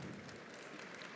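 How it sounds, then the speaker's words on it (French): Audience applause at a public debate session on democracy, a dense steady patter of clapping throughout, fairly soft and distant. "s'il vous plaît, on ne perd pas trop de temps non plus à applaudir"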